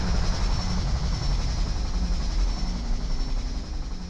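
An aircraft roars overhead in a Skibidi Toilet titan battle game, a loud steady broadband drone with a constant thin whine holding throughout, with no voices.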